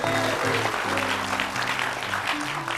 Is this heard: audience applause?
yes